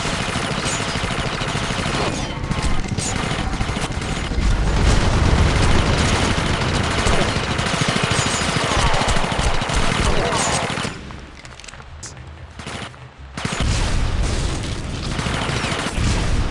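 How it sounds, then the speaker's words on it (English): Assault rifle and grenade launcher fire in the Red Faction shooter, with dense, continuous bursts of automatic gunfire and heavy booms throughout, dropping briefly before resuming at full intensity. "Here's a short clip to illustrate how the game plays with an assault rifle versus the grenade launcher"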